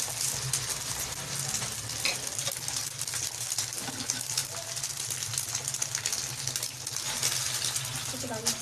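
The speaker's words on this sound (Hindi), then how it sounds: "अब हम अंडा फ्राई करते हैं।" An egg fries in a pan for a burger, a constant close crackling sizzle with occasional clinks, continuing steadily throughout with a low hum beneath.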